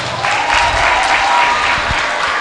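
A large audience applauds steadily, a dense, loud wash of clapping that holds evenly throughout.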